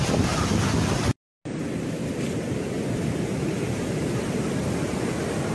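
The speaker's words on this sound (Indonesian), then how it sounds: "Ombak lagi besar, ombak lagi besar, ombak lagi besar" Big ocean waves break continuously on Suwuk Beach in Bali during a heavy swell, a dense roaring wash with strong wind buffeting the microphone and one brief dropout early on.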